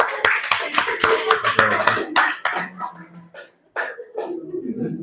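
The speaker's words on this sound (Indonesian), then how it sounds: "Tepuk tangan dulu semuanya." Classroom audience clapping for the winners of a quiz, a burst of separate, sharp handclaps that thins out into scattered claps, with some voices and coughs mixed in.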